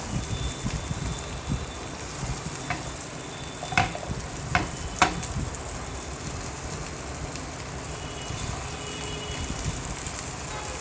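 Hara bhara kebabs shallow frying in a pan give a steady close sizzle, broken by a few sharp clicks of a spatula near the middle. No one speaks.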